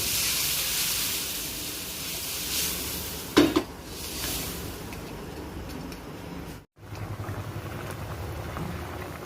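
A little water splashed into big crabs frying in an oily, spicy curry sets off a loud, continuous sizzling hiss up close, with a sharp clank of a utensil partway through and a brief break before the hiss resumes.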